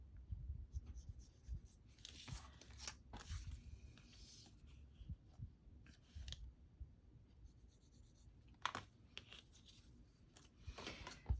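Paper pieces for a Christmas Little Golden Book project being marked with a pen and cut by hand with scissors, giving soft scratchy writing strokes and occasional crisp snips, fairly quiet and close with no talking.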